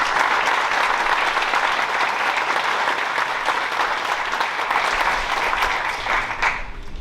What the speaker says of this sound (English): So go ahead and give him a round of applause as well.